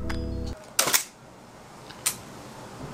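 A Mamiya RB67 medium-format camera fires its shutter on T through a cable release, giving a sharp mechanical clack followed by a second crisp click, close and dry in a quiet setting after a brief electronic tone.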